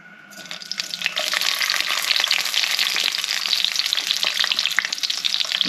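Red peppers drop into hot canola oil on a grill and set off a loud, steady, crackling sizzle that begins abruptly and continues, close by and alone.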